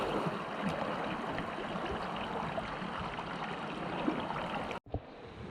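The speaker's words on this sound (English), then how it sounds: "clean spring water coming out from somewhere back there" Clean spring water pours steadily through the Anraku River canyon, a dense, even rush close by that continues unbroken before stopping abruptly near the end.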